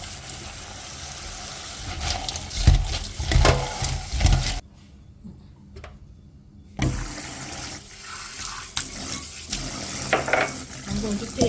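Fresh sorrel is rinsed under running water, a steady splashing and trickling that stops briefly partway through and then resumes, with light handling noises in the mix.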